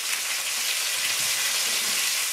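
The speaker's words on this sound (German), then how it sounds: "Im Hintergrund hört ihr schon mal die Krakauer brutzeln." Krakauer sausages sizzle in a frying pan, a steady, even hiss of spitting fat that holds at the same moderate level throughout, with no voices over it.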